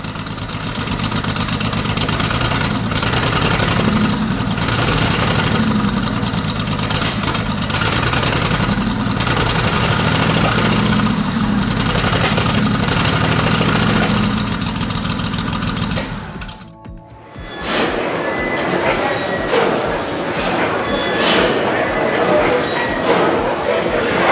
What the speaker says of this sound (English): Slow and steady, this vintage machine hums at just 80 RPM, but each turn packs serious force.